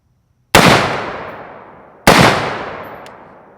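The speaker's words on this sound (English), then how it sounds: "We'll put 2 rounds down range, unsuppressed, give you a baseline." Two loud unsuppressed rifle shots from a Mike 102 rifle fired down range, each a sharp close crack followed by a long rolling decay, about one and a half seconds apart with no talking.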